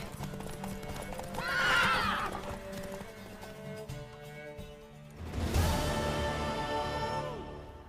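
A horse in The Witcher 3 video game trots with steady clip-clopping hooves and lets out two loud whinnies, one early and one near the end, over faint game ambience.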